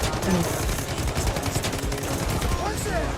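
MK47 rifle fire in the shooter game Delta Force, a dense, continuous stream of rapid shots that stays loud and steady for the whole stretch, with faint talk under it.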